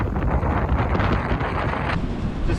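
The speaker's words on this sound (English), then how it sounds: "Just windy as shit." Strong wind blowing across a sailboat near Bodega and Point Reyes, with gusts around 30 knots and heavy swells: a loud, steady roar of wind buffeting the microphone, continuous and close, with no voices.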